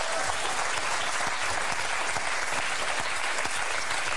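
A French game-show studio audience claps loudly and continuously, a dense, steady wash of applause with no break for a few seconds.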